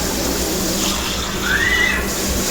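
A glass of water is poured into a cooking pot of chicken tinola, giving a brief, thin pouring splash partway through against a steady background hiss.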